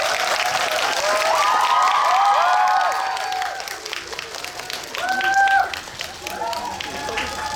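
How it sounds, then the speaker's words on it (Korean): A cinema audience at a film screening Q&A at COEX Megabox applauds heavily for several seconds, the clapping fading, then surging briefly again, with cheers and voices mixed through the crowd. "큰 박수 부탁드릴게요"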